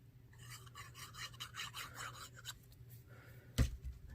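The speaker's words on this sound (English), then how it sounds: "Burnish that good" A glued paper embellishment being burnished by hand, with quiet close scratchy rubbing strokes in a quick rhythm, then a soft thump at the end.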